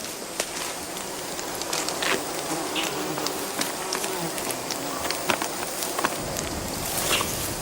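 A swarm of Assam killer bees pours from a smoked tree, their dense, continuous buzzing filling the air at close range, with scattered crackles and brief sharp ticks layered over the steady drone.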